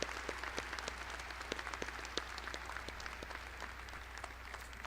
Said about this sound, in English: A big round of applause for our chancellor.